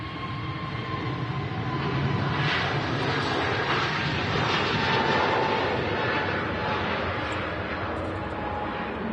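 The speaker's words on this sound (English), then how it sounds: "There goes the easyJet, the A320 Neo." An easyJet Airbus A320neo passes with a loud, broad jet roar that builds to a peak midway and then slowly eases off.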